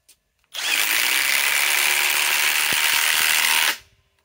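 A Harbor Freight Hercules compact impact wrench on a 4 amp battery pack runs in one loud, continuous burst of rapid hammering for about three seconds, then stops.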